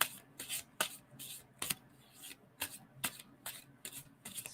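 Tarot cards are shuffled by hand in a quiet room, a dozen or so quick, crisp riffling bursts close up, separated by brief soft pauses.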